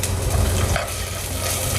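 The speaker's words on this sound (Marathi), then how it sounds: "आणि तेलात पुन्हा एकदा व्यवस्थित परतून घ्यायचं" Ginger garlic paste and onions frying in hot oil give a steady close sizzle, with stirring and scraping sounds breaking through, and no talking.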